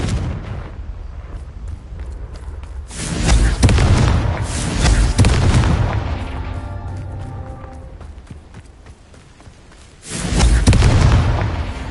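Booming spell blasts in a Harry Potter video game, several heavy low explosions that hit hard, roll off slowly, and return as a loud final burst, with no talking over them.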